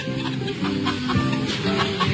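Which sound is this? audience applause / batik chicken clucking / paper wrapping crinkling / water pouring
batik chicken clucking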